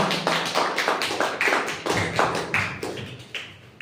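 Audience applause at a discussion event, a steady patter of many hands clapping at close range for several seconds without a break.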